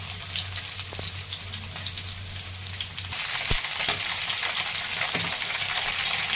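Cumin seeds and garlic hit hot oil in a pan along with mustard seeds, setting off a bright close sizzle that swells louder partway through, with light stirring clicks and no speech.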